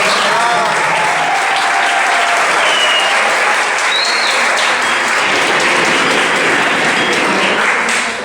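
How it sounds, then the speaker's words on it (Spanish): Sustained, full applause from a lecture audience after a talk on ecological awareness, a thick continuous wash of clapping that holds steady and begins tapering only at the very end. "Yo creo que se merece un mucho mejor aplauso."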